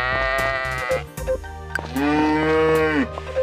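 Farm goats in the Story of Seasons video game bleat in a loud, close series of drawn-out, wavering cries, one long call dominating the second half over steady background game music.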